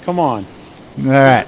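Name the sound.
crickets chirping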